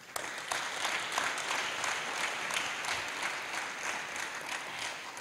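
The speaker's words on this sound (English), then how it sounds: "So I want to give her a round of applause to say thank you." An audience at a hospitality event applauds steadily, a thick, even wash of many hands clapping that holds at moderate loudness throughout.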